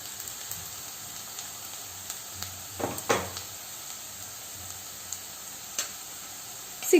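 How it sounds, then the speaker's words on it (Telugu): Onions fry in a pan as spices go in: a soft, faint sizzle broken by scattered light pops and a couple of utensil clinks. "ఆనియన్స్ బాగా ఫ్రై అయిపోయాయండి. సో ఇంక ఇప్పుడు మన మసాలాలు,"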